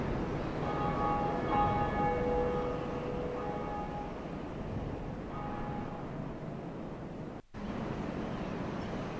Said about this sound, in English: Yeah, I rang the bell.